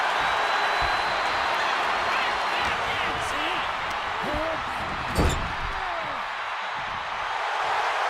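Crowd in the WWE 2K25 wrestling video game: a steady, broad arena roar fills the background throughout, with a single thud partway through and a commentator talking over it.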